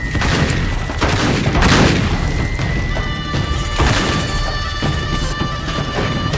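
Loud gunfire and crashing impacts in Uncharted 3, a dense flurry of shots and smashes at close range with a steady ringing tone behind the chaos.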